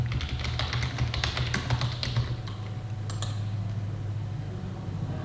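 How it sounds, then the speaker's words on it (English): Fast typing on a computer keyboard, clustered keystrokes clattering in bursts over a steady low background hum, no voices. "And up here, you'll type the selling firm's name."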